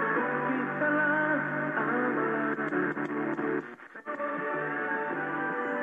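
A Universal Royal RT810BT retro AM radio plays a station with a narrow, muffled tone, music and voices coming through, briefly breaking up into crackle and static before returning.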